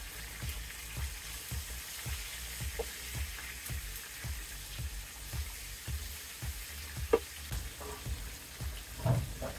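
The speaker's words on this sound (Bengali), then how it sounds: "এভাবে মাছের পিসগুলোকে ভালো করে ভেজে নিতে হবে।" Fish pieces frying in oil in a pan, a continuous soft sizzle with a regular rhythm of crackles and occasional clinks of a utensil, no talk.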